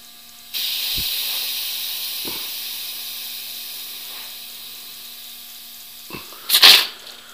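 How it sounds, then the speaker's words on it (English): Compressed air from an air hose pressurizing an oil cooler line on an '88 Chevy GMC 3500 454, a sudden steady hiss that slowly fades, with a few soft knocks and a sharp loud burst of air near the end. "pressurize it with the air hose"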